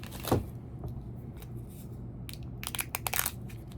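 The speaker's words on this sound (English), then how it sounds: "ASMR me eating my Reese's peanut butter Oreo cup." Someone bites into a Reese's peanut butter Oreo cup, one sharp crunch followed by softer chewing and a burst of crackly, crunchy bites near the mic.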